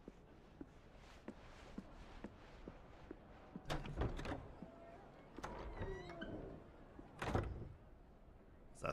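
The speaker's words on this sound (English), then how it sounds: "It's a thick door." A thick, heavy door opens in Final Fantasy 16, with mechanical clunks and a grinding scrape rising over a quiet ambient bed, followed by a few sharper knocks.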